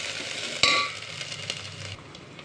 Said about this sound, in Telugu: ఇది కూడా ఆయిల్లో మంచిగా ఫ్రై కావాలి